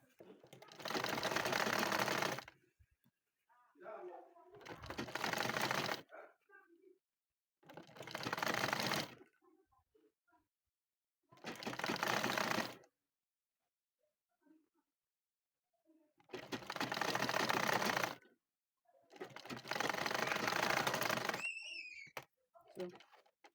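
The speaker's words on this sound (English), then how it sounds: "So the next thing is to sew it." A sewing machine stitches fabric for a child's Spider-Man backpack, running in six distinct bursts of one to three seconds each, separated by short pauses. It sounds close and steady, with faint handling noises in the quiet gaps.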